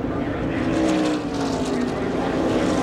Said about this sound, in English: We can hear the engine in the Hell Source car.